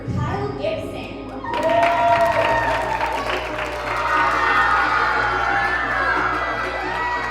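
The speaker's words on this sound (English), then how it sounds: "So let's cheer for Kyle Gibson." A crowd of children cheers and shouts for Baltimore Orioles baseball player Kyle Gibson, erupting suddenly into loud sustained whoops and clapping that carry on to the end.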